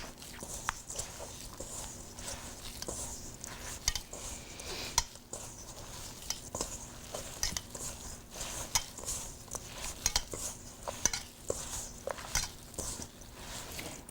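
Soft, irregular squishing and patting as almond oatmeal cookie dough with chocolate chips is mixed by hand, quiet and continuous with occasional small knocks.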